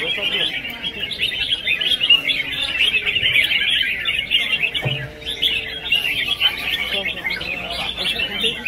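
Red-whiskered bulbuls call at a bird singing contest, a dense, continuous mass of bright chirps and tweets from many birds together, loud and close, with a brief thud partway through.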